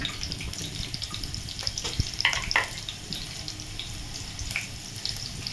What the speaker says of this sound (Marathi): तूप गरम झालंय, त्यात टाकून घेते लसूण